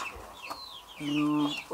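Hens on a small farm clucking and calling up close, a few short clucks followed by a drawn-out tonal cackle, with a voice speaking alongside.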